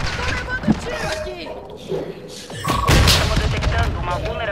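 Gunfire in the Warzone video game, bursts of shots and heavy booms cracking through a busy mix of game effects, loudest toward the end, with a player talking over the action.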